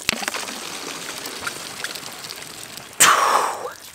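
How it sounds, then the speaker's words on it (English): Water from a backpacking filter bag streams out in a brief gush near the end, preceded by soft trickling and handling noise, close and moderately loud. "it's showing me how fast I can actually filter water"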